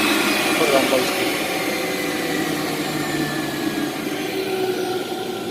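A Breville 800JEXL Juice Fountain Elite juicer runs on low speed with a loud, steady motor whine and whoosh, close up and unbroken.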